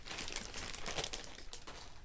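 A small plastic shop bag crinkles and rustles continuously up close, with dense crackling throughout and no speech.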